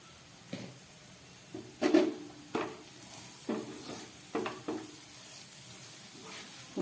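Onions and spices fry gently in a pan over a low gas flame, a soft steady sizzle broken by occasional stirring scrapes and knocks, quiet and close.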